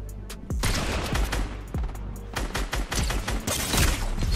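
Rapid automatic gunfire in the video game Fortnite Reload ranked, dense overlapping bursts of shots near and loud throughout, with a few sharper cracks standing out.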